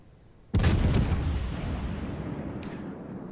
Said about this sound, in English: Fire off some rounds.